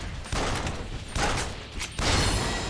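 Desert Eagle pistol shots in the zombie shooter Yakuza Dead Souls, three heavy bursts of gunfire spaced about a second apart, loud and close, with no talk.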